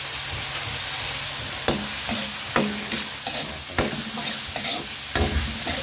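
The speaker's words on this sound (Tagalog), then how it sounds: "Gisa-gisa lang." Ingredients for Filipino beef pares sautéing in a hot pan, with a steady loud sizzle and recurring sharp scrapes and clanks from a spatula stirring, heard up close and without talk.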